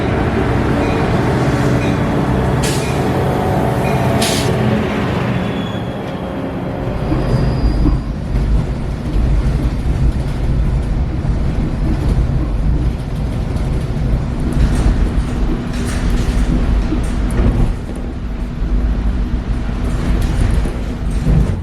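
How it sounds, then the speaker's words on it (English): A morning express train to San Jose rolls along the rails in a continuous rumble heard from inside, with occasional squeals and clunks over the steady roar. "I just took a train"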